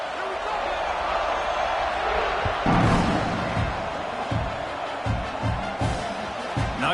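Stadium crowd in NCAA 25 roaring at kickoff, a broad steady wash of cheering that swells midway, with thumps and a commentator talking over it.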